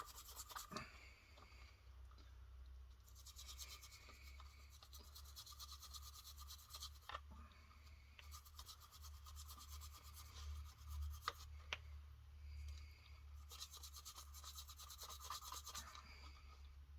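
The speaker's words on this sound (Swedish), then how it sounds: "Så tar jag min gamla tandborste." An old toothbrush scrubs old grease off the gears of a Husqvarna Automower robotic mower gearbox, with steady close rasping strokes in bursts over a constant low hum.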